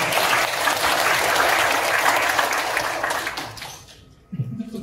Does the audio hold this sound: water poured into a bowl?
no